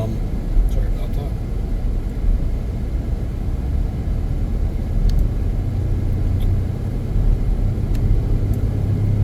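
Car driving on open roads with light traffic on the way in and out of a residential community, giving a steady, close low rumble of engine and road noise throughout with no talking.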